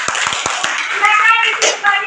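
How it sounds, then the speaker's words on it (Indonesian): Brief applause in a grade ten office-administration classroom in Indonesia: a few quick, close hand claps at the start, then overlapping student voices and scattered claps blend into a lively murmur. "Berikan sekali aplaus."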